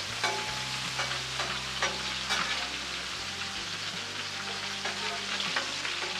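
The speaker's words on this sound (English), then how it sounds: "Let's give our bacon a flip." Bacon sizzles steadily on a Blackstone griddle, a dense close frying hiss with scattered pops and a few scraping clicks from a spatula as strips are flipped.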